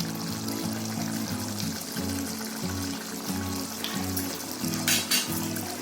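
Water pours into a cooking pan for a no-onion, no-garlic recipe, a continuous close trickle and splash running the whole time over a low steady hum.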